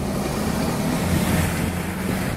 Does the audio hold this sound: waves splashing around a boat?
yes